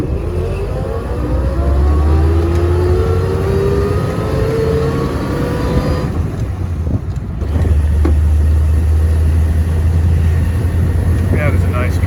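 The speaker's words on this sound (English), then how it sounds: "It's just a great day out here driving the LaSalle." A 1931 LaSalle touring car drives along with a steady low engine drone and heavy wind buffeting. The engine note rises gradually before dipping briefly and then resuming at a constant level.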